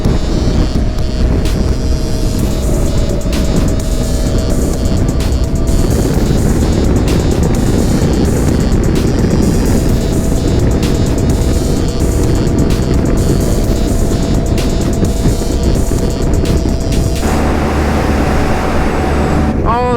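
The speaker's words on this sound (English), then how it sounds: "Oh, it's a helicopter." Helicopter passing overhead while riding a motorcycle on the road near Elko, its broadband rotor and engine roar loud and steady, mixed with wind and motorcycle noise throughout.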